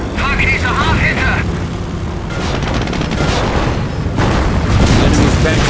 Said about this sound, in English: With this ability, Henschel aircraft will fly by the target location, targeting all enemies within their flight path.